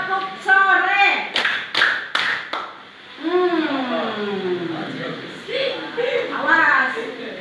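Classroom students clapping along to a call-and-response clapping chant led by a teacher, with sharp bursts of rhythmic claps early on amid children's chanting voices, then sung chant lines with a few scattered claps.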